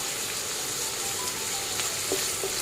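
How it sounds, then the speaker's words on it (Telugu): Onions, green chillies and curry leaves fry in a pan for aloo kurma, giving a steady, dense sizzle with a few faint stirring clicks, fairly close and heard alone without talk. "ఆనియన్స్ మంచి కలర్ వచ్చే వరకు కూడా వేయించుకోవాలి।"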